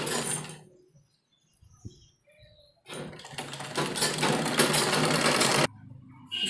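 A domestic sewing machine runs in two loud bursts, short at the start and a sustained run of about three seconds, as it stitches a half-inch seam joining the shoulder of a heavy-size printed-fabric kurti, with quiet handling of cloth between.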